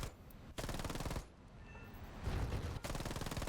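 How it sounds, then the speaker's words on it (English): Rapid bursts of the AV-8S Matador's aircraft cannon firing in a video game, loud and close, in several sustained strings separated by brief pauses, with a quieter lull in the middle. "The gun has a very weird sound right now."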